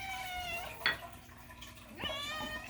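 A hungry cat begging for chicken in a kitchen gives two drawn-out, wailing meows with a brief clatter between them, close and clear against a quiet room.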